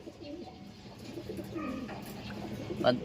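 Soft, low pigeon cooing close by amid faint background noise and a few small chirps.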